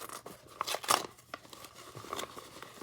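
Plastic packaging around Yu-Gi-Oh cards being ripped open by hand, a few short, sharp crinkling tears and rustles in quick bursts, close and fairly quiet, no talking.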